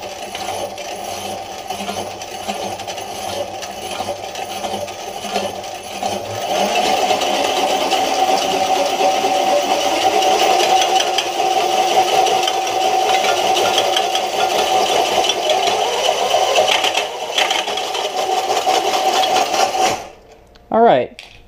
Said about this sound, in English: there's some scraping going on back here.